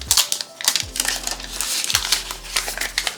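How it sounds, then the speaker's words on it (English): Crisp crinkling and tearing of packaging as a new Xiaomi 17 Pro Max phone is unwrapped, a close, busy run of rustles and crackles with a low thump at the start. "So let's unwrap this bad boy."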